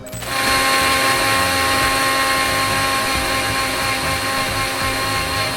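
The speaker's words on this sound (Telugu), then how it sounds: "ఇప్పుడు దీన్ని మొత్తాన్ని మిక్స్ చేసుకుందాం." A kitchen mixer blends watermelon chunks, ice cubes and water into juice, roaring in a loud, steady, gritty whir that holds unbroken after a quick start, close by with no voices.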